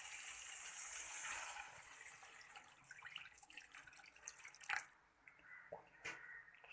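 Water pours steadily into a cooking pot for noodles, a broad splashing rush that tapers off, followed by a few faint drips and clinks.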